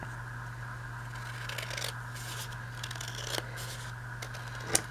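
Scissors snip through white paper while a triple pocket is made from two pages, faint close cuts in short bursts over a quiet steady hum.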